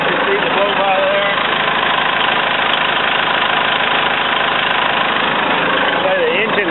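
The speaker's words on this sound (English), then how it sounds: "Okay, the engine sounds good on the machine." The diesel engine of a 2000 Manitou M430CP forklift idles steadily and loudly nearby, a constant rumbling drone with a voice speaking over it.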